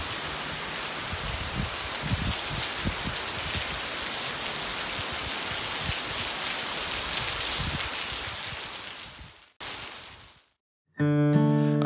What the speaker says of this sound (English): Very heavy rainy season.